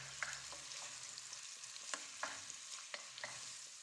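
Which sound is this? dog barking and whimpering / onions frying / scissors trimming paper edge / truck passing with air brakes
onions frying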